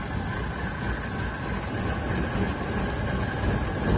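An old multicab's engine running, a steady rough rumble and rattle that stays constant and moderately close, with no talk over it.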